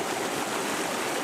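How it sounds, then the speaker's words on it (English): Flood water surges through a parking lot in San Diego, a steady, dense, broadband rush of water that holds constant throughout with no voices. "A surge of water rushes through the parking lot"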